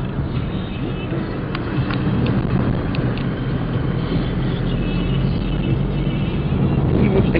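A car drives through the city streets of Irkutsk, with a steady low engine and road drone heard from inside the cabin throughout.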